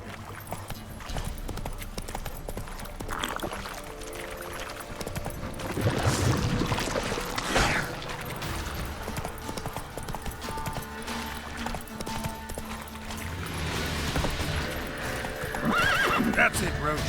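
In The Witcher 3, the horse Roach gallops with rhythmic hoof clip-clops and neighs now and then, while someone speaks over the hoofbeats and outdoor game ambience.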